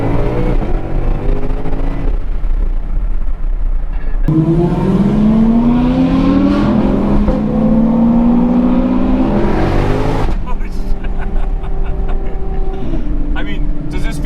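A 2025 sports car, either a Mustang GTD or a Porsche GT3 RS, revving hard on the road with rising pitch sweeps and gear changes. Loud and continuous inside the cabin, with people talking over it.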